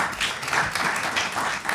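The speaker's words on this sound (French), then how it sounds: "Je vais demander à tout le monde d'applaudir très fort Jorge" An audience claps together in a dense burst of applause that holds steadily through the short moment.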